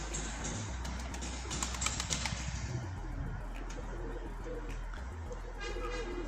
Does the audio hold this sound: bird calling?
yes